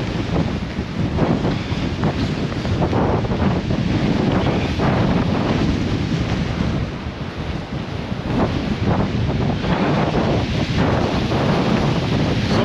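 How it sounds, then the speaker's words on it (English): Heavy storm surf roars and crashes continuously against a Lake Erie shore, mixed with strong wind buffeting the microphone. "Big waves coming in here."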